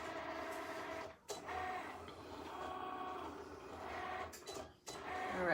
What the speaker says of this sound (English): my Cricut is currently cutting the circles out for us